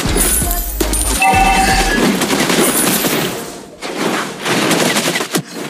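Rapid bursts of automatic gunfire from Clint, a hero in the mobile game Mobile Legends, rattle close and loud with metallic clinks among other in-game effects and no talking.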